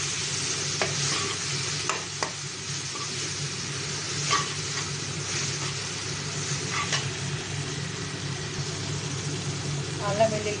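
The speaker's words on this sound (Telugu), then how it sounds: "ముందుగా తయారు చేసుకున్న అల్లం వెల్లుల్లి పేస్ట్ని వేసుకోవాలి. వేసి బాగా వేయించుకోవాలి." Ginger garlic paste fries with tomatoes in a pan, a constant dense sizzle with scattered stirring scrapes and clinks throughout.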